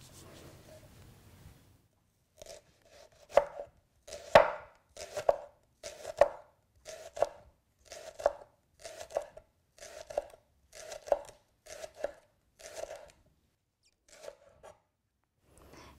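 A knife finely chopping shallots on a cutting board, a steady series of close, crisp taps in irregular bursts, preceded by a short stretch of low background noise.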